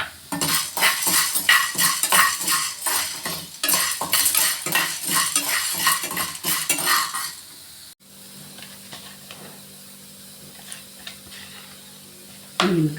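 Chickpeas dry-roast in a pan while a metal utensil stirs them, giving dense rattling, scraping and faint sizzling for about eight seconds. The stirring then stops, leaving a low, quiet hum.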